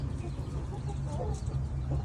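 Soft hen clucking over a steady low farmyard hum, faint and somewhat distant, with no one talking.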